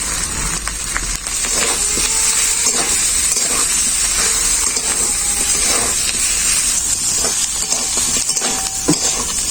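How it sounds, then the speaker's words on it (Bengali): Garlic paste, chilli powder and turmeric fry hard with potatoes in a pan for a ridge gourd dish, giving a loud, continuous sizzle with scraping stirs throughout. "সব মশলা আলুর সাথে খুব ভালো করে কষিয়ে নিয়েছি মশলা পড়া গায়ে লেগে লেগে যাচ্ছে"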